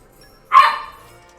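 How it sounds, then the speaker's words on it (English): A single sharp dog bark rings out close and loud, then fades into quiet, in Xenoblade Chronicles 2. "Oh, the dogs are barking."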